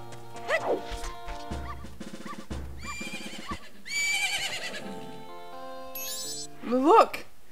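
A horse in The Legend of Zelda: Majora's Mask video game neighs in short whinnies, near and moderately loud, amid other game sounds and musical tones.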